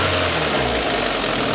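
An MG ZR 160 engine with its stock airbox fitted runs steadily with a low, even hum close by, no voices over it.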